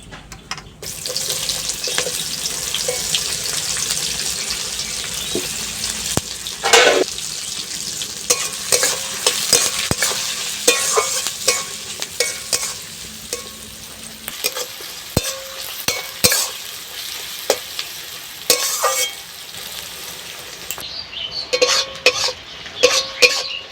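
Chopped onions hitting a pan with chicken masala and bay leaf, sizzling and frying with frequent clattering stirs and scrapes, alongside a brief burst of running tap water, close and fairly loud.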